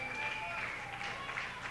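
Wrestling crowd at an NWA TV title match cheers and applauds in a dense, continuous roar, with a commentator talking over it.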